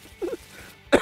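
A person coughing during a tabletop card game, a short throaty hack followed by a sharper, louder cough a moment later.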